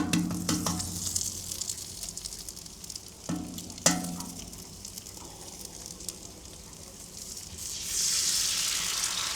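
Egg and cheese fry on a Blackstone griddle with a steady close sizzle, broken by a few sharp clicks and scrapes, and the hiss swells louder near the end.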